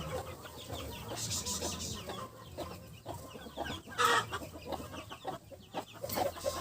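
Broody hens cluck and chatter repeatedly close by, with scattered squawks and some background farmyard noise.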